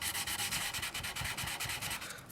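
Rapid rhythmic sanding strips lacquer from a Stratocaster guitar neck being scalloped, a steady close scratchy back-and-forth rasp with no talking.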